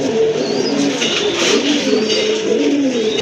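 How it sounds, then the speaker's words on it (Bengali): Gola and female pigeons at a market stall, cooing in overlapping low throaty burbles with occasional chirps from several birds close by, continuous and fairly loud. "আরেক জোড়া গোল্লা কবুতর এখানে"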